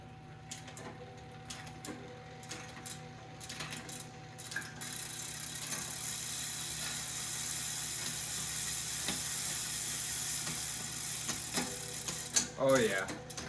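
Drivetrain of a Trek Stache mountain bike clicking through gear shifts after an adjustment, a run of light ratcheting ticks over a steady background hum, with a burst of quick clicks near the end.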